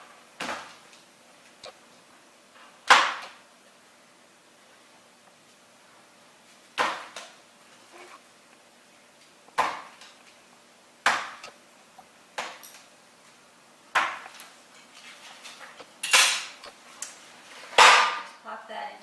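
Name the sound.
breaking up chocolate squares with a knife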